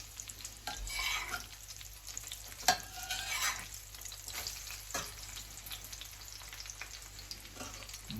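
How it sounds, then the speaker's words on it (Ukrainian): Battered fish frying in hot oil, with a steady crackling sizzle and a few sharper spatters as the pieces are turned over in the pan. "Все, наша рибка вже золотисте з одної сторони. Перегортаємо."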